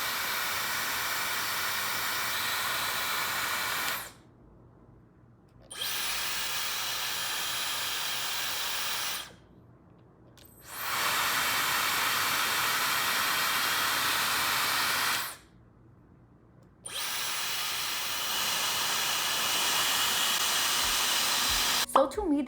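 A Dyson and a Laifen hair dryer blow in turn, each a steady, loud airy roar in three long bursts separated by short silences, with no talk over them.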